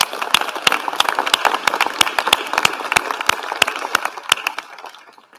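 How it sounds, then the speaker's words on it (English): Sparse, individual hand claps from an audience after a speech, distinct sharp claps at an uneven rhythm rather than a dense roar, tapering off toward the end. "let us give them a round of applause."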